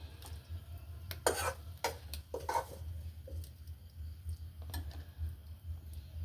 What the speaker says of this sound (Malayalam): ഇതേപോലെ ഞാനൊന്ന് ഇളക്കി കൊടുത്തു